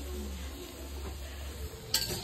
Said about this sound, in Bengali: এখন কড়াইতে পেঁয়াজ সবে দেওয়া হয়েছে